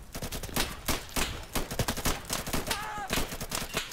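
Gunfire in the shooter game Insurgency: rapid bursts of close, loud automatic shots in dense irregular volleys, continuing steadily throughout.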